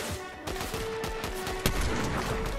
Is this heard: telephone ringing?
no